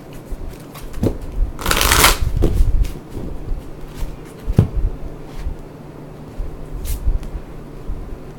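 Reading cards are shuffled by hand nearby, with a loud riffling burst, then scattered soft flicks, taps and card slides in an otherwise quiet room.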